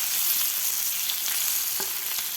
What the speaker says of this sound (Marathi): खालची बाजूसुद्धा व्यवस्थित अशी फ्राय झालेली आहे